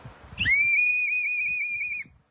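A single shrill whistle blast is held steadily for about a second and a half, loud and close, over faint background voices and movement.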